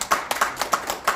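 A few people clap in quick, uneven bursts at a political discussion forum in Korea, sparse, close hand claps rather than a full ovation, with no talking.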